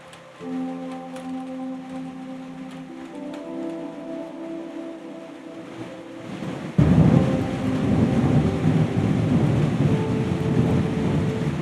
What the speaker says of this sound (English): It is lightning heavily, and that's a really problematic situation that I am in.